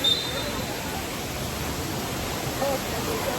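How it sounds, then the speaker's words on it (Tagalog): Tinago Falls, a waterfall in the Philippines crowded with visitors, makes a steady, even rushing roar that fills the whole short stretch without a break. "So, ito ang Tinago Falls."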